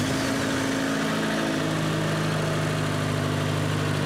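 A John Deere ProGator utility vehicle engine, just reassembled after an input shaft bearing replacement, runs at a steady, fairly loud idle with a continuous low rumble throughout and no talking.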